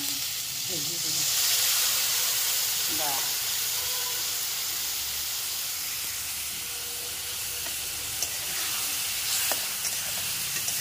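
A potato and parwal curry with masala stirred in a pan, a steady close sizzle and hiss with occasional scraping of the spoon, faint and continuous without talk.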